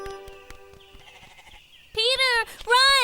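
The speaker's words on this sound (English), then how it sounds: "Heidi and Peter always took the goats grazing every day." Goats in a cartoon fairy tale give two loud, close bleats near the end, after a quieter stretch of background music.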